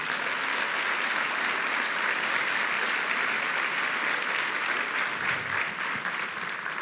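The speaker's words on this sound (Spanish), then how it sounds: "Dale un aplauso fuerte al Señor." Church congregation applauding loudly and steadily at a Spanish-language sermon, a dense wash of many hands clapping that holds at full strength for the whole stretch with no talk over it.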